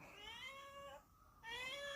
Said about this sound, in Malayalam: അപ്പോഴത്തേക്കും അതാ പൂച്ചയും വന്നു